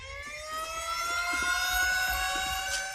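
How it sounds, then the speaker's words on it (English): A loud, steady siren from a scene in the film Apocalypse Now wails continuously with a slowly rising pitch, close and dominant, over faint low rumbling. "Stop him with your siren, man!"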